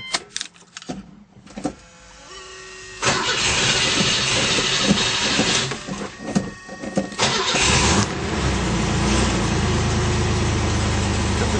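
A car engine cranks and starts, then revs up and down and settles into a steady idle, close and loud, while a tachometer reading is shown.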